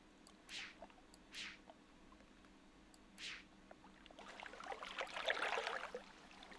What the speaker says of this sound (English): So basically, yeah, you are hearing the lagoon.